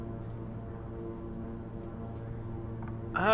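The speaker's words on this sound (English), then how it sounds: "It sounds like turboprop-ish." Turboprop engines of a King Air 350 in Microsoft Flight Simulator 2020, a steady droning hum with layered tonal whine holding level for about three seconds, then rising briefly louder at the end.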